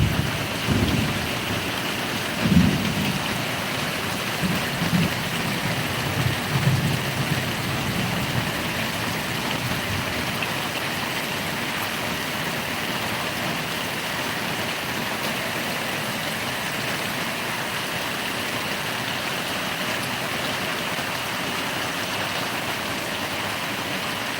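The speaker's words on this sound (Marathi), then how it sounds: "जबरदस्त पाऊस पडत आहे" Heavy rain pours steadily in a dense, continuous hiss, with a few low rumbles early on, then an unbroken downpour for the rest.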